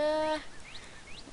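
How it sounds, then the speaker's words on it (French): Birds in a modded video game: a harmonic honking call at the start, then a few thin rising and falling chirps over a steady background hiss. "Vous entendez des oiseaux à côté."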